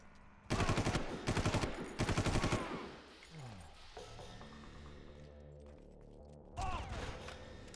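Loud rapid bursts of automatic gunfire in the shooter game Far Cry 1 come in three quick volleys, then a quieter stretch of game sounds and a final burst near the end.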